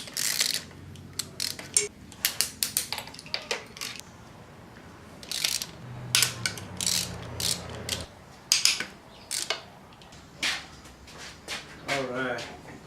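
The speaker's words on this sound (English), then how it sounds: "There's four 12mm bolts on each side for the intake that attaches it to each cylinder head. So we're going to go ahead and remove those next" Ratchet wrench backing out 12mm intake manifold bolts on an engine being torn down for a rod knock, with repeated close clicking bursts and metallic clatter in uneven runs, and brief talk in between.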